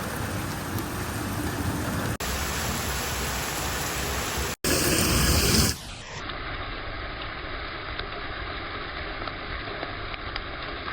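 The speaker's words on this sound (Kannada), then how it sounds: "ಎಷ್ಟು ಬಡಿಯಾಗತ್ತೈತಿ ಮಳೆ. ಹೊಡಿಲಿ ಮಳೆ." Heavy rain falling hard outdoors, a loud continuous roaring hiss that breaks off abruptly, then gives way to a softer, steady patter for the remaining seconds.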